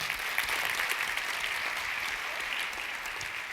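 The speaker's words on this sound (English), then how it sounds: "Let's give him a round of applause." Steady applause from an audience at an education conference keynote, a dense even patter of many hands clapping that holds throughout without fading.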